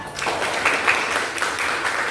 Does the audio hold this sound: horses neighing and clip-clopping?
no